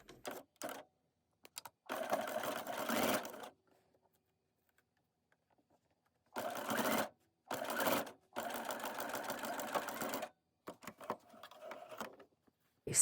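A sewing machine stitches scrap fabric for a patchwork pouch in several short bursts of rapid mechanical whirring, separated by pauses of near silence, heard close and fairly quiet with no talking.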